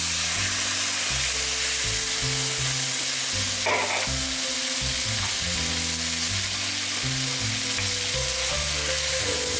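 Tomatoes going into a hot pan for a pasta sauce, a loud continuous sizzle and spatter close by, with a burst of stirring partway through and constant frying hiss from start to end, no voices.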